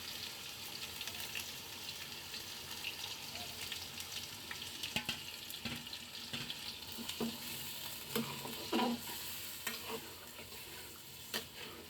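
Meat hits hot oil with fried onion and ginger for tehari, a steady soft sizzle with scattered stirring clinks and scrapes, moderately quiet and continuous.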